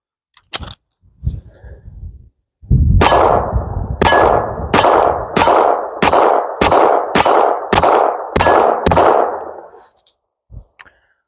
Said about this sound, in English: we got a magazine of the 95 grain Blazer 380s that we're going to put in and run through the X Macro Frankenstein 380